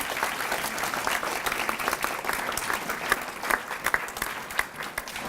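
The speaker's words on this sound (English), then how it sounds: "Let's give all of our parents a big round of applause and families." Audience applauding parents and families at an elementary school D.A.R.E. graduation, a sustained, even roar of many hands clapping, moderately loud and slightly distant, with a few sharper claps standing out toward the end.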